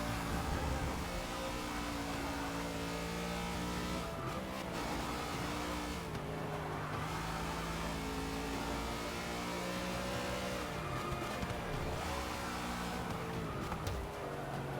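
A race car loses grip and spins out in Forza Motorsport 6 during a Bathurst endurance race, its engine droning and revving loudly and continuously, with pitch dips and surges as the car slides and recovers.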